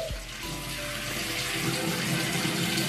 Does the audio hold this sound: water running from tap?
yes